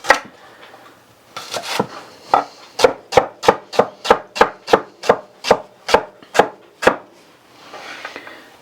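A knife chops celery on a board for country chicken and dumplings: a few uneven strokes, then a steady run of about a dozen crisp, close, evenly spaced cuts, then quiet rustling.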